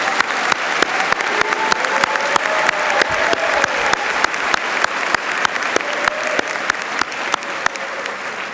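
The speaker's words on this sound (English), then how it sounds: "Let us congratulate these individuals on their accomplishments with a round of applause." Sustained audience applause at the 2026 Unity Environmental University commencement ceremony, a steady wash of many hands clapping throughout with faint voices mixed in.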